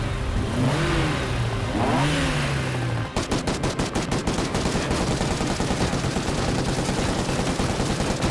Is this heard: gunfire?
yes